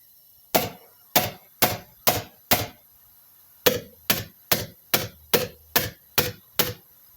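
Sharp metal taps on the valves of a Farmall H tractor engine with the valves under air pressure, a row of five crisp strikes, a pause, then about eight more in steady rhythm, close and alone.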